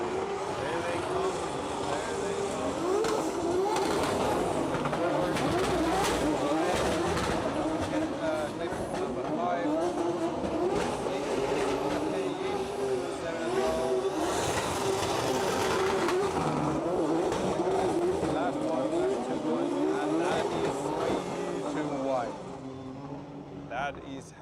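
Drift cars come past in the IPDC 2026 Top 16 competition, their engines revving in rising and falling wails and roars that stay loud for most of the stretch and then fade near the end, with an announcer talking over them.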